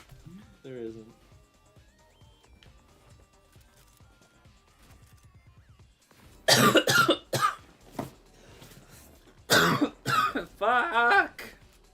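A gamer coughs several times in harsh, loud bursts close to the microphone after a quiet stretch of game sounds, with short pauses between the coughing fits.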